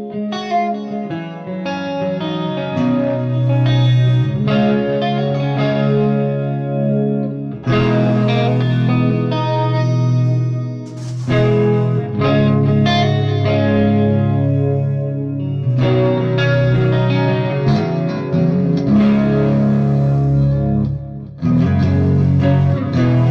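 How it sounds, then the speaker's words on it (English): An electric guitar plays through a Brit-Tone SLO Plus 100W amp with Flashback reverb and delay, notes smearing into lingering repeats across a continuous, loud phrase. "Flashback reverb, delay."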